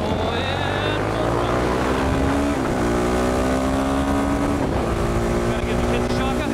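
A supermoto motorcycle engine at full throttle on a track, its loud continuous roar with rising pitch sweeps as it climbs through the gears, close and steady throughout.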